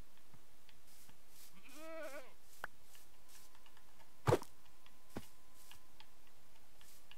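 A single short, wavering goat bleat from Minecraft, fairly faint, set among scattered game clicks and one sharp louder thud.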